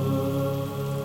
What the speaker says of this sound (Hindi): अंदर चलिए बहुत बरसात हो रही है